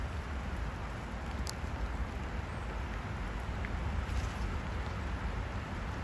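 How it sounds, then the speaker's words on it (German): Steady rain falls outdoors as a continuous, even hiss of drops at moderate loudness, with no voices over it. "es regnet die ganze Zeit"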